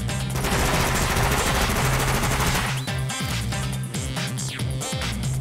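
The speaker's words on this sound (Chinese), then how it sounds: "游戏今次咧加入咗新枪 Tommy， 佢嘅定位咧系冲锋枪" A Thompson Tommy submachine gun fires in the zombie VR shooter After The Fall, giving a loud, continuous rapid-fire rattle with brief gaps over game music, no voices.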